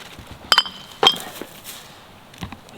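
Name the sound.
broken glass clinking as it is handled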